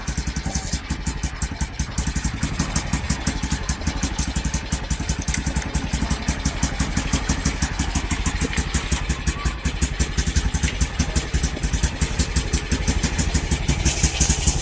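Honda CB110 motorcycle engine revving steadily with a dense, rapid exhaust pulse and mechanical clatter, loud and close throughout without voices.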